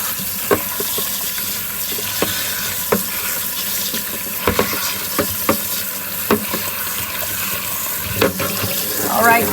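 Tap water runs steadily into a sink while peeled, stemmed tomatillos are rinsed, with intermittent knocks and clatters from handling close by.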